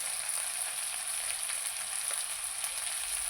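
Taro (kochu) frying in a pan in a village kitchen, a continuous close hiss of oil sizzling evenly with no voices.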